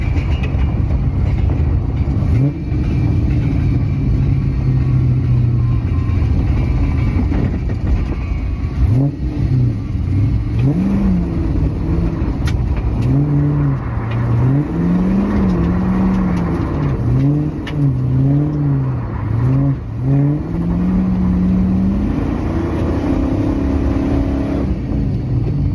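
An LS-swapped E60 car does a cookie on a washed-out road, its V8 revving loud and close in rising and falling sweeps, with a deep rumbling undertone and no talk.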